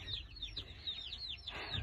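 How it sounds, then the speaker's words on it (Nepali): Rapid, high-pitched peeping of chicks repeats throughout, with low clucking from a rooster nearby underneath. "यहाँ छ हाम्रो भाले त्यत्रो छ नि चल्लाहरू छ"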